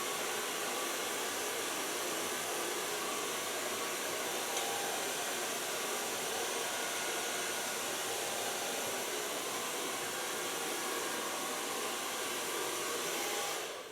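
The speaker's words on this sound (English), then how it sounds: "And so far blow drying." A hair dryer blow-drying short platinum blonde hair, a loud continuous whooshing roar held steady for the whole stretch before cutting off at the end.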